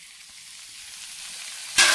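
Potatoes and boiled pork cook in masala. A quiet, faint hiss builds slowly, then a sudden loud burst of sizzling breaks out near the end as the food hits the hot oil.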